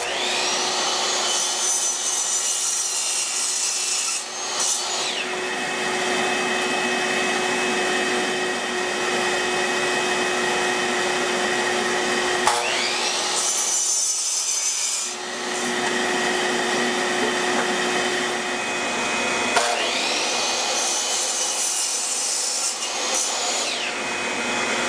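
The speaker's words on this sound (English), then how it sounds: "then I'm going to run through the thickness planer" A thickness planer and jointer dimension lumber, the motor whine running loud and steady with three brief dips as boards finish passing through.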